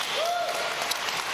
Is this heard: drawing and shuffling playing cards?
no